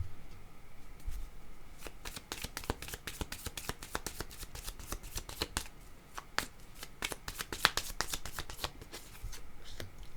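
Playing cards are shuffled for a card reading, giving a fast, close run of crisp riffling flicks that starts sparse and then clusters into dense rapid bursts, quiet overall.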